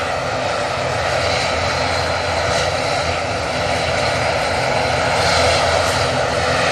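Airliner jet engines at Manchester Airport, a loud continuous roaring rumble that holds steady throughout with a slight swell near the end, no voices over it.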